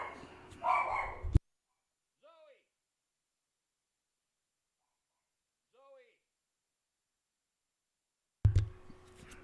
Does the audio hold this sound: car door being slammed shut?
no